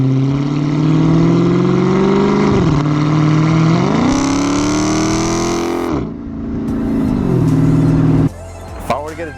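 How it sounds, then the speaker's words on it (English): A Dodge Challenger SRT 392 with a Borla Attack exhaust roars through repeated revs, the loud, close engine note climbing and dropping in several pulls before cutting off sharply near the end. "my beautiful sounding Borla Attack exhaust that when you step on it, that thing roars"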